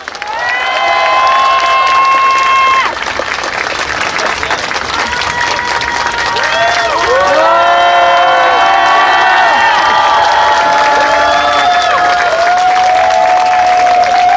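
A crowd at an outdoor Sewol ferry disaster 900th-day rally cheers and applauds steadily to welcome the investigation committee chairman, with whoops and raised voices rising above the clapping.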